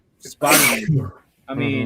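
One loud, close sneeze cuts through a casual conversation, with people talking just before and after it.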